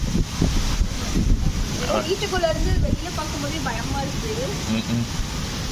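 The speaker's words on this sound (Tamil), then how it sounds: "அடி காற்று, பயங்கர காற்று, மழை." Steady roaring wind buffets the microphone during a heavy rainstorm in Dubai, a constant hiss of rain, while a voice speaks faintly underneath.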